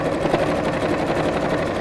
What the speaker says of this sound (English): closing the opening as I'm sewing